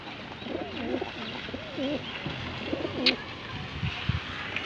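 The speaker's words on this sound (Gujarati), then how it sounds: "જલ્દી ખાઈ લો કબૂતરો" Pigeons feeding outdoors in the rain give soft, repeated coos close by, with a few faint pecks and small sounds around them.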